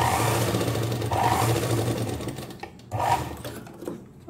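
A sewing machine stitches a long cloth strip for a homemade langot baby diaper, running in a steady close whir with brief slowdowns and restarts, no voices.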